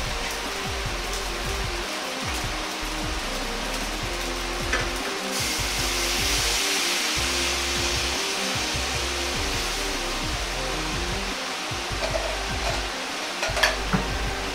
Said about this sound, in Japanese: 焼きそばによく溶いた羽の素を回し入れます